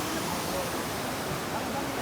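Jonha waterfall near Ranchi pours steadily, a dense, continuous rush of falling water that stays loud and even throughout with no pauses.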